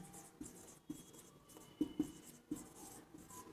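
A pen writes a sentence on paper in quiet, soft scratching strokes with small taps between words, faint and close, with no talking.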